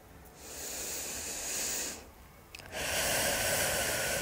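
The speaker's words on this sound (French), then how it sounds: "Je t'invite à garder cette respiration profonde." Slow, deep breaths during guided meditation: a long airy breath, a short pause, then a second, louder and fuller breath, close and hissing with no talk.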